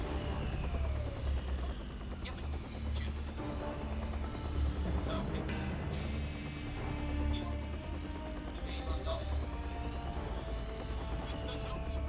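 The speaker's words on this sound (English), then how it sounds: "The helicopter noise is coming out of the tablet." Helicopter rotor noise from Star Fox Zero, played through a Wii U tablet speaker: a steady, dense mechanical drone that runs unbroken throughout, with no talk over it.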